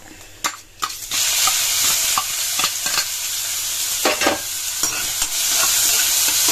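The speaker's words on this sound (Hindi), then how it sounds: "सरसों का तेल गर्म हो चुका है और हम डालेंगे इसमें थोड़ा सा जीरा और बारीक कटे हुए प्याज." Cumin seeds and finely chopped onion hitting hot mustard oil, with a sharp burst of sizzle followed by a loud, steady frying hiss and repeated spatula stirring scrapes close up.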